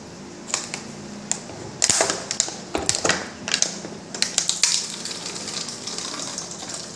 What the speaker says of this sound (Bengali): তো সেই জন্য আমি ফিল্টার জলই একটু নিয়ে নিচ্ছি।